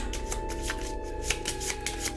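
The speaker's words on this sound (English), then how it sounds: "Shuffle that back in." A deck of cards is shuffled during an Arkham Horror card game, giving a continuous riffling rustle with a rhythmic pattern of soft card slaps throughout.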